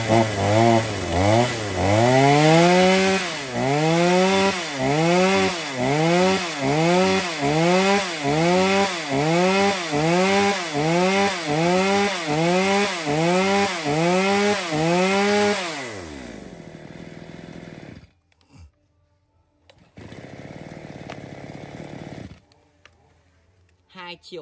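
A small 32cc D5 chainsaw revs in a fast, regular rhythm of rising and falling engine pulses for about fifteen seconds, loud and close, then idles down and cuts out, with a short quieter burst of running near the end.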